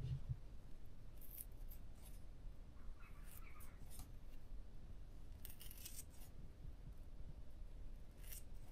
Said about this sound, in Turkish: Son olarak makasın etteki performansına bakalım.